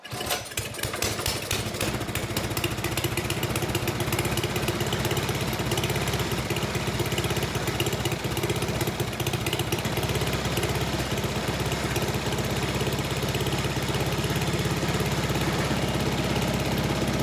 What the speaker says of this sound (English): That's on low idle.